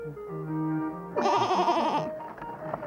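A goat bought at a market in a Ukrainian children's folk-tale film bleats in a burst of wavering, quavering cries lasting about a second, loud and close, following quieter background music.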